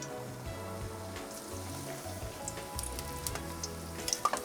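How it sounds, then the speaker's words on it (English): Eggplant pakoda fritters frying in a batch of hot oil, a steady close crackling sizzle with scattered sharper pops toward the end, no voices. "So we'll cook the pakoda in batches. Make sure the oil is nice and hot"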